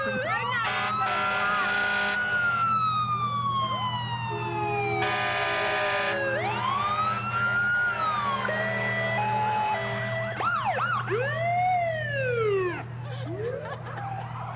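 Fire truck sirens in a small-town parade featuring the Grafton Fire Department, several wailing and yelping sirens overlapping close by over a low rumbling engine drone, sweeping up and down continuously with short air-horn-like blasts mixed in.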